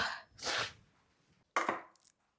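Two bursts of a knife chopping onions on a board, a longer one then a shorter one after a pause, close and fairly loud with no talking.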